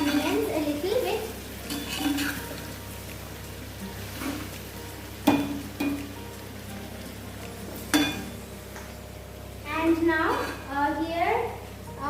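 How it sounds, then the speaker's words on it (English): Onions frying in a pot for mutton biryani or veg pulao are stirred in bursts, with a steady low sizzle underneath and occasional clinks of utensil on metal; a voice is heard speaking near the end. "Stir it well, and we are going to fry the onions a little bit."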